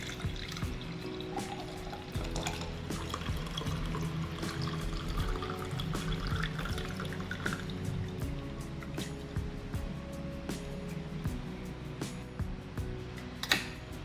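Liquid pours and drips steadily through a strainer as a homemade herbal spice drink, kept chilled in the fridge, is strained before drinking, with a low background hum and no talk.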